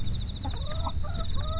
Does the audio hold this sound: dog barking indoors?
no